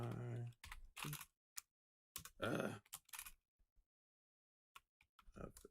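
Computer keyboard typing in bursts of quick clicks separated by silences, close and fairly quiet, with a man's grunts and muttering mixed in.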